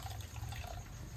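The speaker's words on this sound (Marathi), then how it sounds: "धुवून घ्या लावली आंबाडी." Water runs steadily over ambadi (sorrel) leaves as they are rinsed, a brief close splashing flow like a tap into a vessel.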